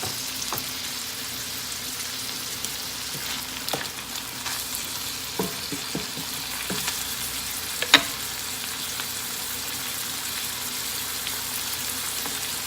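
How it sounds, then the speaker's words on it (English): Butter melting in a pan for sausage gravy gives a steady, soft sizzle and crackle throughout, with a few faint clicks and light scrapes and no talk. "Melt the butter."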